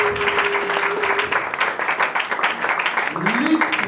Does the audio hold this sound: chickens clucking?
no